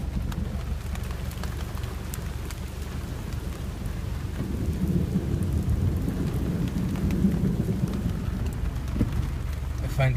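A thunderstorm at Little River fills the scene with steady heavy rain and low rolling thunder rumbling up and fading through the middle and later part, continuous and fairly loud, with no one talking.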